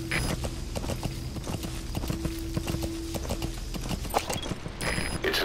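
A horse's hooves clip-clop in a steady, brisk rhythm in the Metal Gear Solid V: The Phantom Pain video game, a faint tonal hum beneath and a few sharper knocks near the end.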